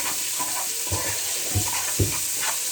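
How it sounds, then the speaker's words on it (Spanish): Chopped onion and bell pepper sizzle with meat in a pan, a steady soft frying hiss broken by a few low stirring thumps and scrapes as the mix is moved around. "Vamos a agregar la cebolla, todo picado en bromois, y el morrón, todo picadito para que se vaya guisando."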